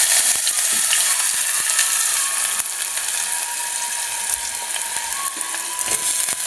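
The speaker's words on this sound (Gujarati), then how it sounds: "ત્યારબાદ ડુંગળી નાખીશું" Onions go into oil already tempered with mustard seeds and cumin, giving a steady, close hiss and sizzle with faint clicking and stirring that holds unbroken for several seconds.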